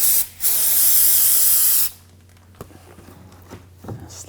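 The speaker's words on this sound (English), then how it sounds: "Use a little brake parts cleaner," An aerosol can of brake parts cleaner sprays onto a 2007-2013 BMW X5 transmission pan in one loud hissing burst of about a second and a half, followed by quiet handling clicks and shuffling.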